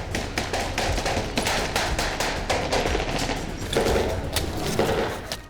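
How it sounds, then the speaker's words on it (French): Soldiers fire blank rounds in an urban combat training exercise, with dense, continuous bursts of rapid automatic gunfire echoing loudly and nearby for the whole stretch, no speech. "Les soldats tirent des balles à blanc."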